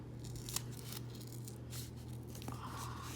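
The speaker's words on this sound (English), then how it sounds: "we're gonna do it with my trusty dandy small baby scissors" Small scissors snip open a penpal letter envelope, a few faint cuts and paper rustles at close range over a steady low background hum, no talking.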